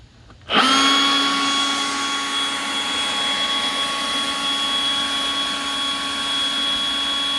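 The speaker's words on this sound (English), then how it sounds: "something I do want to make you aware of with this blower, it is loud." Milwaukee M18 Fuel dual-battery 600 CFM leaf blower starts up abruptly and runs steadily at full power, a loud sustained high-pitched whine and rushing air, heard alone from about ten feet away.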